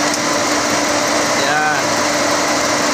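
A Toyota Vios condenser fan motor runs with a steady, loud high-pitched electric whir and constant hum, with a voice speaking briefly over it.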